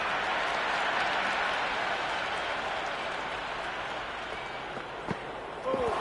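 A stadium crowd in the cricket video game Cricket 26 applauds and cheers after a boundary shot. The clapping forms a broad, continuous wash that eases slightly toward the end, with a few sharper knocks near the close.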